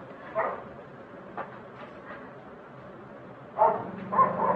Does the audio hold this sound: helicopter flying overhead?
no